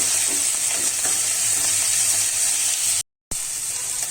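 Finely chopped tomatoes sauté in a hot pan, giving a steady close sizzle and hiss with light stirring scrapes, cut by a brief moment of silence near the end.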